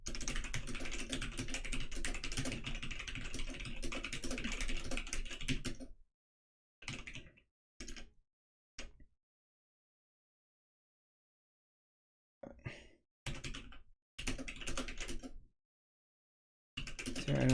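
Computer keyboard typing as dialogue text is written, with a dense run of rapid keystrokes at first and then short separate bursts of clicking between silent pauses, close by and with no talking.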